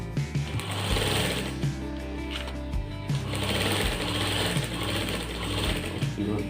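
A sewing machine runs steadily, stitching a second line of top stitching over an inner seam on an apple cut shirt, with a continuous close mechanical whir and regular pulsing of the needle throughout.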